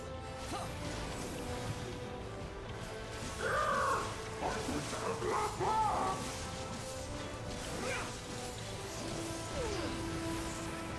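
Crow cawing in Final Fantasy XIV, a few harsh caws in the middle over steady game background sound, with soft thuds and swishes around them.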